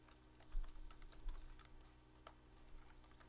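Rapid typing on a computer keyboard, a soft run of clustered key clicks at close range with a few short pauses, over a low steady hum and no voices.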